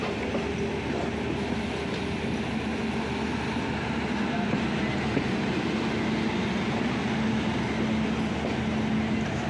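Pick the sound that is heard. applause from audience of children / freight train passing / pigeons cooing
freight train passing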